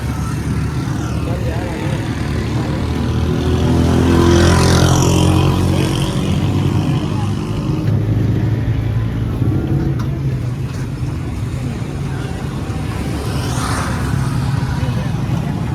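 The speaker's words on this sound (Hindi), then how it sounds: "तो बाइक को निकालता हूँ फिर आते हैं वापस" A motorcycle being ridden, its engine droning steadily with rising and falling revs alongside road and wind noise throughout.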